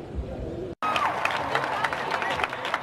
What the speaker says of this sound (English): soccer fans watched the Women's World Cup final cheering on the United States